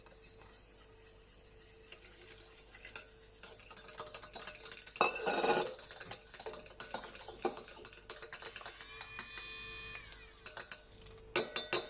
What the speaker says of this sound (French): je vais commencer au fouet à main